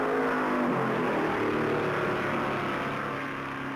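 A field of stock cars starts the 1964 Southern 500 at Darlington, their combined engines forming a loud, steady, heavy roar that holds throughout and eases slightly near the end.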